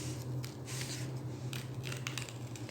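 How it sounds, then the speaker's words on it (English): Scissors snipping through washi tape, a few quick crisp cuts close by over a steady low hum, with no one speaking. "I'm going to cut my washi tape down there"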